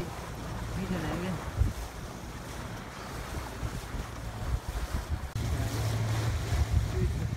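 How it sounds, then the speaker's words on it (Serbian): Ocean waves and wind at sea, with steady rushing wind buffeting the microphone over the wash of surf and a surge of heavier noise near the end. "Ovo je okean."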